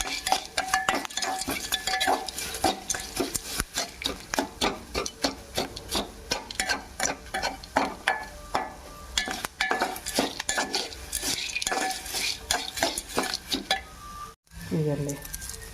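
Curry leaves being stirred as they fry in a pan, with a spoon scraping and rubbing against the metal in quick, repeated strokes, fairly close and steady, ending in a brief thump.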